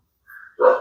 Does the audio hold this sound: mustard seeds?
no